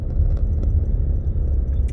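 A car interior carries a steady low rumble and road vibration while driving, with a few faint knocks and rattles on top and no voices.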